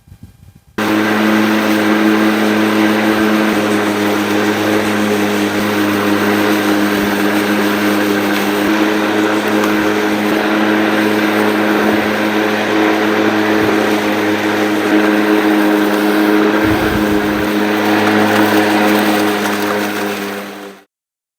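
Cordless Black & Decker battery lawn mower cutting a small grass lawn: a loud, continuous whirring motor drone starts abruptly, holds steady for about twenty seconds with slight load changes, then winds down.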